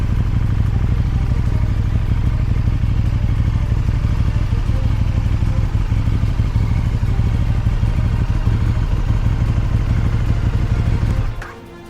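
A KTM 1290 Super Duke motorcycle engine idles close by with a loud, steady, lumpy throb that holds evenly for several seconds before cutting off abruptly at the end.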